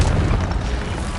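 A deep, loud fiery boom from the Incendio fire spell cast in the video game Hogwarts Legacy, a single sustained burst of rumbling flame that fills the moment without any speech.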